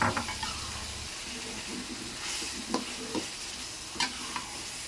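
Tongkol tuna hitting a hot pan with spices, giving a bright, continuous sizzle with intermittent scraping stir strokes and a few clanks, close and fairly loud.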